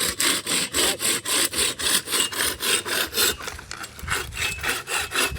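A large saw cuts through wood in a rural Thai setting, working in steady rhythmic back-and-forth strokes, loud and close, with a brief pause partway before the strokes resume.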